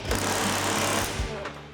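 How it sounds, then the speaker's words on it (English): Nuts are busted off the suspension bolts of a C10 truck during teardown, a steady loud mechanical rattling and hammering running throughout the short clip, with a voice talking over it. "Just busting some nuts off here."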